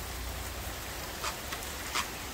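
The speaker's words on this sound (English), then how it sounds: "Mr. Wiggy, what we gonna do about this rain?" Steady soft rain falling near a houseboat, an even hiss with a couple of brief louder drips or splashes, no voices.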